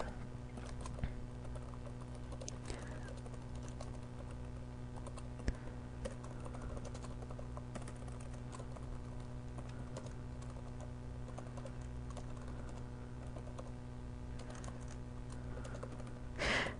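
Someone types steadily on a computer keyboard, a continuous run of soft, close key clicks over a low hum, with a sharper tap now and then and no speech.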